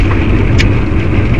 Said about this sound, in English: I'm driving a 1985 Cougar, which has a clutchless